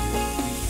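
Chopped tomatoes drop into a hot pan for sweet corn egg masala, giving a brief, steady close sizzle and hiss with faint stirring.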